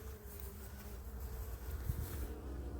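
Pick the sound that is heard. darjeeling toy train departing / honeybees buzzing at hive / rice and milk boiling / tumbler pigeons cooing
honeybees buzzing at hive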